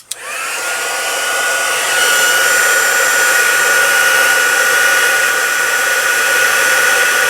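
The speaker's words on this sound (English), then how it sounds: "And then turn the heat tool on again." A heat tool switches on with a click and settles into a loud, steady high-pitched whir, like a hair dryer, as it melts clear embossing powder, with no talking.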